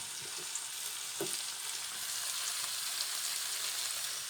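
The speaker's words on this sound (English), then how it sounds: "So they can go into the frying pan." Steady sizzling of chopped Basella leaves frying in a hot pan, a continuous crackling hiss with a couple of faint stirring knocks near the start.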